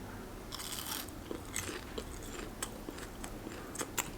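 Someone crunches into a cabbage salad with toasted sesame dressing, crisp bites and chewing crackles repeating at close range across a few seconds.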